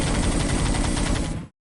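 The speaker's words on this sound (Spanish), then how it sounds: "el pesado sonido explosivo de los disparos" Heavy, dense burst of rapid gunfire from a StarCraft audio drama, a loud continuous automatic volley of supersonic spines lasting about a second and a half before cutting off abruptly into silence.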